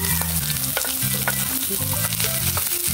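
Sliced onion and garlic sizzle steadily in hot oil for a vegetable dish. The frying noise is loud and continuous throughout, with a steady tonal hum running underneath.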